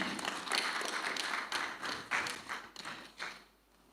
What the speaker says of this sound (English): please put your hands together. At least you can clap for her